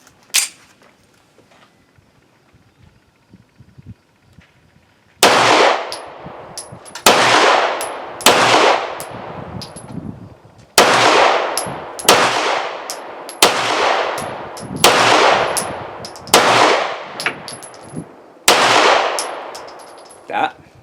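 A G-Force Arms Chronicle 1911 pistol chambered in 9mm fires roughly a dozen loud, sharp shots at uneven intervals. Each crack rings with a short echo, and the shots follow a few seconds of quiet.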